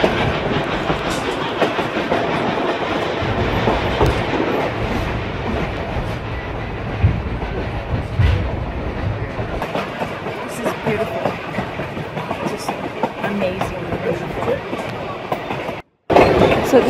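The Durango to Silverton train rolls along the rails with a continuous rumbling clatter and rhythmic wheel clicks heard from inside a railcar, loud and steady, with a brief cut near the end.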